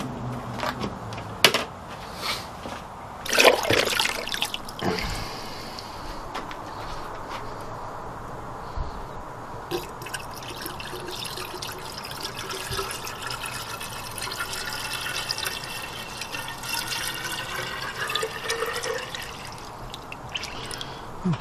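Water trickles and splashes steadily into the radiator of a 1969 Ford Capri with a 1600cc engine, a continuous near pour with a few louder splashes early on and faint birdsong outdoors.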